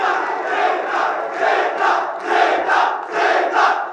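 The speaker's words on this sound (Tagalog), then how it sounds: "Grabe crowd reaction, guys." A crowd at a Filipino rap battle roars and chants in repeated rhythmic surges, loud and dense, with no single voice standing out.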